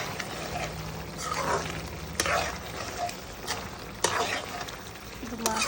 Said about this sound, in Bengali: মাছটা কষাই নিই